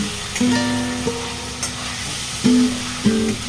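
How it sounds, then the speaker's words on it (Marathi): Pieces of mushi fish fry in oil for a Maharashtrian fish curry. There is a close, steady sizzle with occasional stirring, and tonal sounds sit underneath. "आता याच्यात मुशी टाकायची आणि परतून घ्यायची तेलात।"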